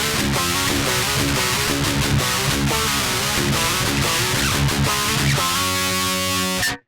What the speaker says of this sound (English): it's the sound of an amp with no cabinet on there